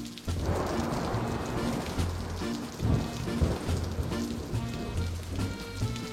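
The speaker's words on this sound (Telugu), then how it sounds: "వర్షాకాలంలో వర్షం పడే తీరాలి." Heavy rain pouring steadily during the rainy season, a dense continuous wash of drops on surfaces with low rumbling beneath, loud and even throughout with no voices.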